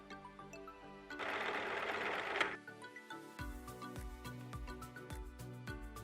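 A sewing machine stitches darts in fabric with contrasting thread, starting with a brief whirring burst, pausing, then running in a steady, close, rhythmic mechanical patter with no talk.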